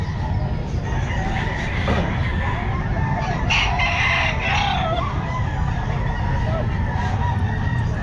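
Bull stag rooster crowing at a busy pet market, with the crow rising over constant crowd noise and other birds in the background.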